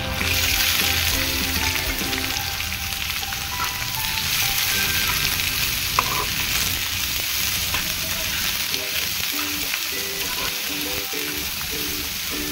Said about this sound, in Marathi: आपण कांदा चांगला परतवून घेऊ.